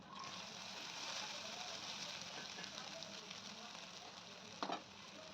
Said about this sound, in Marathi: साबुदाणा चांगला परतून घ्यायचा आहे